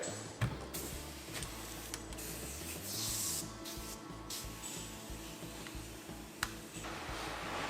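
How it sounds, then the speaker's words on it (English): Spray Away glass cleaner sprayed onto the window rubber of a 1968 Ford Ranchero, a series of close hissing spritzes with small clicks and rubbing in between. "Spray her down real good with the old spray away."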